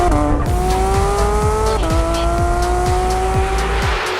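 A Porsche 992 GT3 sports car driven hard, its engine wailing loud and close as revs climb and snap through upshifts, with a faint tyre squeal.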